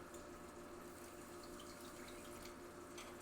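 Water poured into a cooking pot on a rooftop cooking setup, a steady broadband rush lasting throughout, fairly loud and continuous with a slight hiss on top and no talking.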